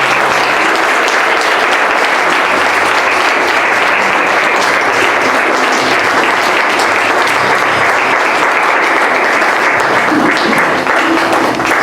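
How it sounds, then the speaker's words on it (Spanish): Sustained applause from a church congregation after a prayer, loud and dense throughout, with no speech over it. "Un aplauso a nuestro Señor"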